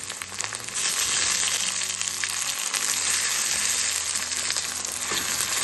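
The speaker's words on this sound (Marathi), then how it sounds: "टोमॅटोसोबत मस्त परतून घ्यायचं" Chopped onion and tomato sautéing in a pan for a dry brinjal dish, a loud steady sizzle that swells after the first second and holds, close up with no talk.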